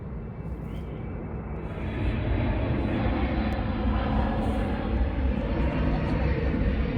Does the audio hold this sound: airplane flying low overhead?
yes